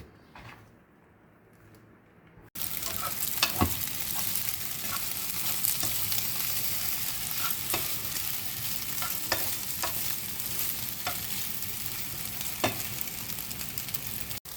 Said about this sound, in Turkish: tavaya ekliyoruz şimdi doğradığımız sosis ve sucuğu